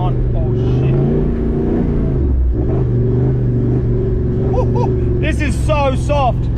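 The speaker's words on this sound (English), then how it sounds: "That bit of sand that we just drove through before was a make or break situation" An off-road vehicle ploughs through soft sand at a remote Australian campsite, its engine rumbling and revving steadily at close range, with a person talking loudly over the noise throughout.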